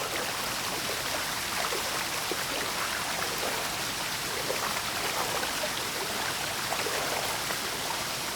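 Waterfall rushing steadily, a dense, unbroken hiss of falling water that stays loud and even throughout, with no voices.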